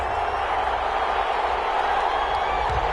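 Steady roar of a stadium crowd cheering in an EA Sports NFL video game before a Seattle Seahawks versus London Monarchs matchup, a continuous broad wash of voices without distinct peaks.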